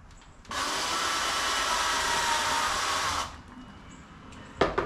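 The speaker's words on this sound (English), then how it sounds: "I have to drill this in" A power drill bores into the wood of an Adirondack chair in one steady, loud burst of about three seconds, close by, followed by quieter handling and a couple of sharp knocks.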